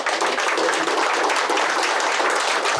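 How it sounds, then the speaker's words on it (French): An audience at a talk on optimism claps warmly in a loud, dense, sustained wash of many hands that holds steady throughout with no voices over it. "de l'applaudir chaleureusement"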